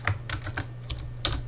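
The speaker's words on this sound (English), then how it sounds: "I'm just going to type in a text" Keys tapped on a computer keyboard while entering text in video editing software, in short irregular bursts of clicks over a low steady hum, close and moderately quiet.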